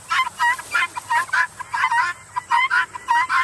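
Guinea fowl call in a garden, a rapid, insistent string of harsh, scratchy cries repeating in quick bursts, loud and close.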